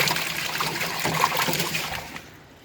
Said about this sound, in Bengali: ধুয়ে নিই আমি, ধুয়ে নিলে একদম ফ্রেশ হয়ে যাবে।